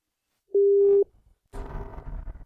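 A single steady telephone tone, about half a second long, sounds loud and clear, followed by a short pause and then a burst of broadband room noise as a call fails to connect.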